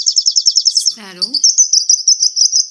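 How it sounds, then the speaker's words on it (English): A sparrow gives quick, evenly spaced high chirps, briefly interrupted by a short lower voiced call before the steady chirping resumes, loud and close. "sparrow,"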